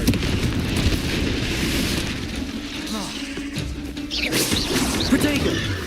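A Confringo blasting spell going off in Hogwarts Legacy, loud booming blasts and crackling roars that swell, dip briefly, then surge again over dense layered game audio.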